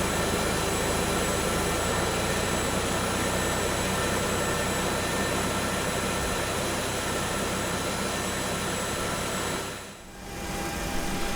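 FlyJSim 732 TwinJet engines in the X-Plane 11 simulator: a loud, steady broadband jet roar with a faint whine running through it, dipping briefly near the end before returning.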